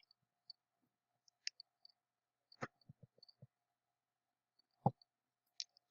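Faint, sparse clicks from a computer mouse, single and double clicks scattered at irregular intervals in an otherwise quiet room.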